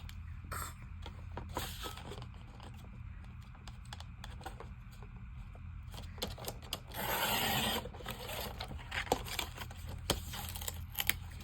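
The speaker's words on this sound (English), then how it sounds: "So let's try to trim off all of this stuff. See how we do with this trimmer." A paper trimmer cuts craft collage items up close, with quick clicking and slicing strokes, rustling paper and one longer rasping cut partway through.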